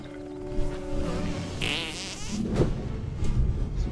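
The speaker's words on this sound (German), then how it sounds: "Wenn der Furz dort ist, wo ich ihn haben, benutze A, um ihn zum Explodieren lassen." A fart explosion goes off in South Park: The Stick of Truth, a cartoonish buzzing, sputtering blast that swells for about a second amid game music.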